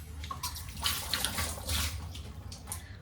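Water scooped into cupped hands for washing the face, heard as a short, soft splash and trickle with steady running water beneath, quiet and close, without speech.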